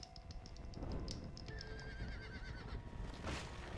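A horse in the video game Red Dead Redemption: Undead Nightmare whinnies and snorts amid clip-clopping hooves and game ambience, close and moderately loud, with no talk.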